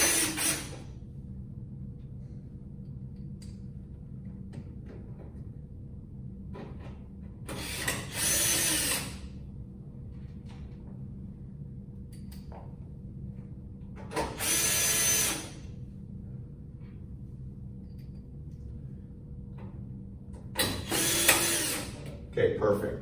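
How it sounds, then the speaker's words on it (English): A power drill drives self-tapping screws into metal brackets while a fluorescent light fixture is retrofitted, three separate short whirring bursts spaced several seconds apart, close and loud over a steady low hum. "Then we'll secure those with self-tapping screws. One screw per bracket is plenty."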